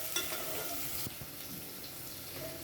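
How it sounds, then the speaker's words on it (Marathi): Onion and cumin fry in a pan with a faint, close hiss and light stirring, and a brief louder splashy burst near the start, all quiet and without speech. "जिरे टाकलेलं आहे, कांदा पण टाकलेला आहे. कांदा पूर्ण लालसर होत द्यायचा ना."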